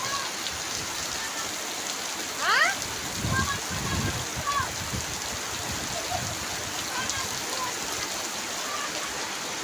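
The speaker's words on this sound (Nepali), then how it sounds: "यता कस्तो पानी परेको साउन्ड लागेको" Steady rain patters across the whole stretch, a dense even hiss with a few brief sharper sounds and faint voices in the background.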